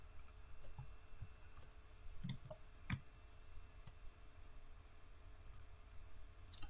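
Sharp mouse clicks come singly and in quick pairs at irregular intervals, close and fairly quiet, over a low steady room hum with no talking, while text is cut and pasted on a computer.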